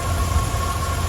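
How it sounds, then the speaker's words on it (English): A 1972 Chevrolet K10 truck with a Holley carburetor and standard exhaust idles, a steady low rumble heard close and alone without talk. "There you can hear the engine, runs nice."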